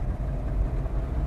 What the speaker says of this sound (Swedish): Volvo-motorljudet är ju